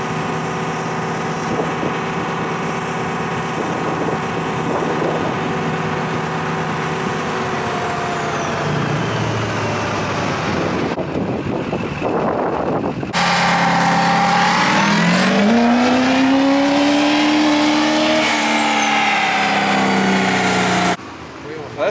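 Duramax diesel pickup truck engine roaring at high revs under load, a loud sustained full-throttle pull that drops away briefly then climbs again with rising pitch, steady and close throughout.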